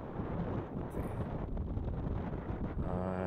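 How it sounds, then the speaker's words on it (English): Strong, steady wind buffets the microphone at a Matanzas Inlet fishing spot, a continuous loud rumbling roar with gusty swells throughout. "The wind is very strong."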